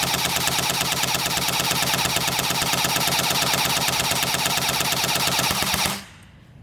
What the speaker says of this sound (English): Here's a full 55 round mag dump over the chronograph.